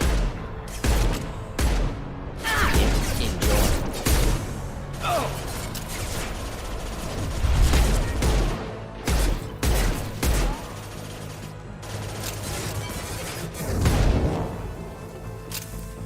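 Bursts of heavy pistol fire in the video game Mass Effect 2, several sharp shots in irregular clusters over game music and ambient effects.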